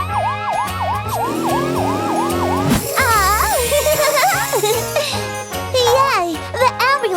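A cartoon ambulance siren wails in repeated rising and falling sweeps over bouncy children's music with jingles, first a rapid pattern and then slower swoops.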